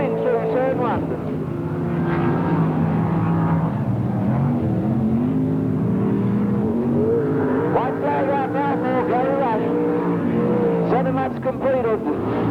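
Loud, sustained engine roar of sprint cars racing on the Parramatta City Raceway dirt track in 1981/82, pitch sweeping as cars pass through the turns, with a commentator speaking throughout.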